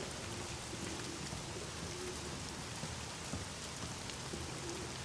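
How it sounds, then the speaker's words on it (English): Steady rain pours down without a break in the video game The Medium, a dense even hiss with scattered drops hitting close by. "Nice rain effects."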